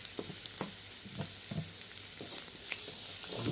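Chicken curry masala with curry leaves and tomato sizzles steadily in a pan as a spoon stirs it, with repeated scraping strokes over a continuous frying hiss and no talking.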